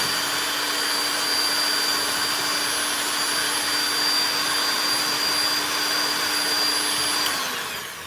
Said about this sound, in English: With a hand mixer, it's really quick to get these foamy.